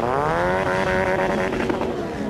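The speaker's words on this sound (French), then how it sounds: "Et vous l'avez entendu, le bruit. Je pense qu'il essaie de faire un burn, mais par contre le sable n'était pas assez dur" A Honda motorcycle at the Le Touquet sand race revving hard in an attempted burnout on soft sand, a loud, sustained high engine whine that wavers slightly in pitch, close and continuous.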